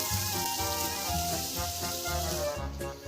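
Sofrito vegetables sizzle loudly in a pan with crispy pancetta for a bolognese, a dense, steady crackling fry close by with no talk over it.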